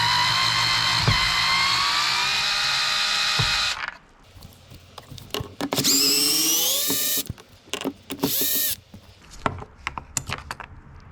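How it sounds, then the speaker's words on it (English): A cordless screwdriver whines steadily while backing out screws from a 2013-2018 Toyota RAV4 door panel, then short bursts of the motor alternate with clicks and clatter of parts nearby. "You don't have to use a cordless screwdriver like I was saying, but I like using it."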